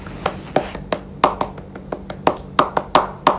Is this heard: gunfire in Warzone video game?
no